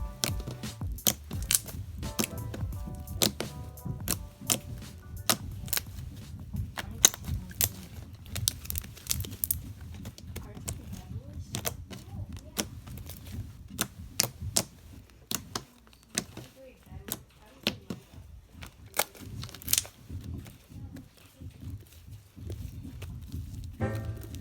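Fluffy slime squished, stretched and poked by hand, close sticky pops, crackles and snaps in an irregular stream, with people talking faintly at times.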